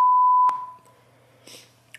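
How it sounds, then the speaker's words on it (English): A loud steady censor beep held for about half a second and cut off sharply, followed by faint room noise and a couple of soft clicks. "I was a gentleman and beeped it out."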